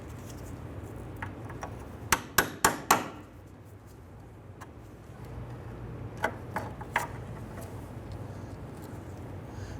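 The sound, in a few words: hammering a small punch to drive out a cotter pin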